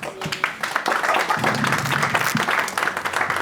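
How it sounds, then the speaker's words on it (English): An audience applauds steadily at a community event, a dense close wash of clapping over a few seconds. "Let's give a round of applause for Beth Gavriel."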